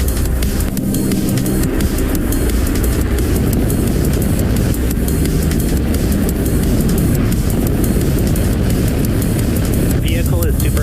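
A SpaceX Falcon Heavy rocket thunders off the pad at launch, a loud, dense, continuous rumbling roar that holds steady without pause for the full stretch.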